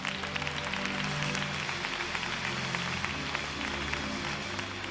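Sustained applause from a large church congregation, a dense steady wash of clapping with music or voices faintly underneath.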